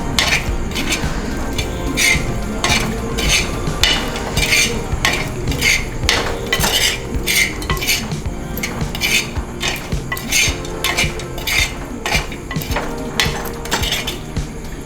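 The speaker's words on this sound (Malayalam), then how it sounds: "നന്നായി മിക്സ് ചെയ്ത് കൊടുക്കുക" A spoon clinks and scrapes steadily against a bowl or pan as prawns are mixed with spices for a Kerala-style prawn fry, in fast, even, repeated strokes with no talking.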